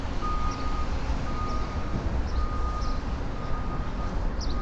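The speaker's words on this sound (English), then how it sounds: "I don't hear anything except beeping right now." A steady electronic beep repeats at an even pace over constant traffic rumble, like a vehicle's warning signal heard from a short distance, on a street between Williamsburg, Brooklyn and Manhattan, New York City.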